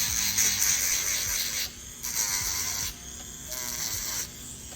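An electric nail file shaving down the side of a gel nail tip, a close, steady high-pitched whirring buzz that dips briefly in pitch and loudness as it presses against the nail.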